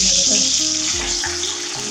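Sliced shallots fry in hot oil in a pan after mustard seeds and crushed dried chillies, a close, steady sizzling hiss with a few low clatters and a brief bit of talking over it.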